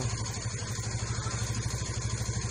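A Yamaha Vega R motorcycle engine runs up close with the throttle held open, a steady, pulsing mid-pitched putter with a slight rhythmic flutter, on a bike whose headlight bulb keeps burning out when revved.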